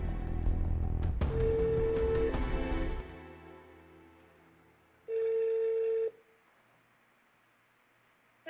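A steady ringback tone purrs for about a second amid background noise, then falls quiet and sounds again alone, two evenly spaced rings on the line.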